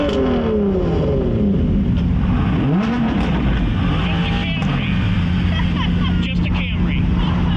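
Toyota Camry driving on a race track, loud continuous engine noise rising and falling in pitch as it revs and shifts, with a voice briefly audible over it.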